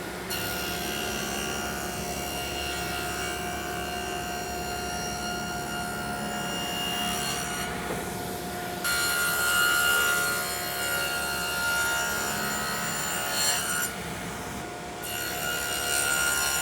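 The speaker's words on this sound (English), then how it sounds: "So I'm going to machine these grooves and then machine some strips" A router or similar machine cuts grooves in wooden stock for an Arts & Crafts settee, a loud, steady high-pitched whine running throughout with small shifts in tone as the cut changes.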